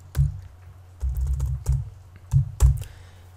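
Keystrokes on a computer keyboard while writing Python code, landing in short clustered bursts of clicks with brief pauses between them, close and clear with no talking.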